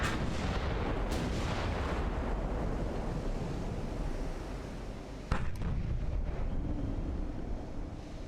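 Naval guns fire during a simulated ironclad battle between CSS Virginia and USS Monitor in the video game Ultimate Admiral: Dreadnoughts: a steady roar of booms and rumbling wash, with one sharp, louder blast near the end.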